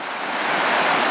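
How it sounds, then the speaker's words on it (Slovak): A flowing mountain stream in Kôprová valley rushes loud and close, its broad watery roar steady and building slightly over about a second. "potok"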